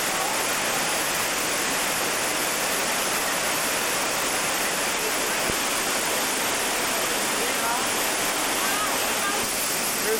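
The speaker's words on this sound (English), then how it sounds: "Here's the waterfall." A powerful waterfall pours into a gorge in New Hampshire at the start of a flume, a loud, dense, unbroken roar of rushing water heard close up and filling the whole scene.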